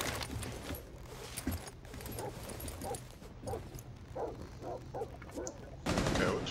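Gunfire in a first-person shooter, shots aimed at a wall, comes as a burst of sharp cracks near the end, after a stretch of game noise with some talk.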